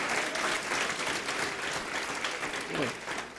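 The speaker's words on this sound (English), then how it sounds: "Please give a good clap to our dear brother, Michael." Audience applause at a church service rings out as steady, dense clapping from a crowd, continuing throughout with no pause.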